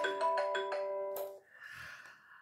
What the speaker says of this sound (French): on a le téléphone qui sonne